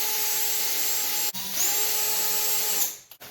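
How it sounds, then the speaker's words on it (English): A power drill boring through a guitar body on a workbench, a steady whining motor that stops briefly, then restarts and runs again before winding down, loud and close with no talking. "Now I can actually drill through here."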